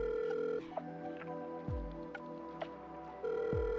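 A telephone rings in a video game, its electronic ring tones repeating steadily and unanswered over game music, with a pause near the middle before the ringing resumes.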